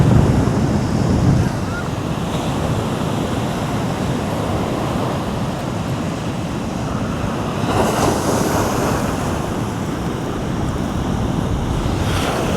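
Ocean waves wash onto a roadside beach along the Karnataka–Goa coast in a continuous broad rush of surf, heavily mixed with gusty wind buffeting the microphone.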